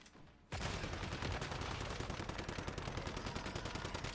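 Automated turret in the video game Once Human firing a long, rapid, sustained burst of loud gunshots that starts abruptly after a brief pause and continues without letup.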